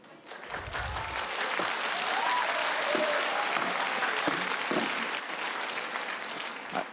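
Town meeting audience in Acton breaking into applause after a remark about voters against marijuana, a sustained mass of clapping that swells in, holds steady and tapers slightly, heard from across a hall.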